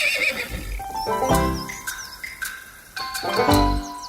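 A foal neighs in a high, quavering whinny that repeats in several wavering bursts, close and clear, with faint bird chirps in the background and no talk.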